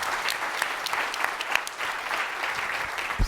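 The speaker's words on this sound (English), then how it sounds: "Round of applause for Suniva." Audience applause at a beverage industry startup pitch competition finals, a dense steady wash of many hands clapping at moderate distance, sustained and even throughout with no speech over it.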